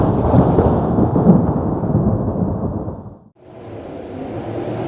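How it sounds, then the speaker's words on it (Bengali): Deep thunder rumbles on and on with a roaring rush of cold wind, loud and close, easing off briefly before a softer windy hiss returns. "অনেকক্ষণ থেকেই মেঘ ডাকছে আর শোঁ শোঁ শব্দে ঠান্ডা হাওয়া বইছে"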